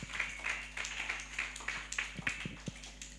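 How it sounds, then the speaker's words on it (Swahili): A church congregation claps at a fairly quiet level in an uneven rhythmic pattern of sharp hand claps, with a steady electrical hum underneath. "Makofi mazuri."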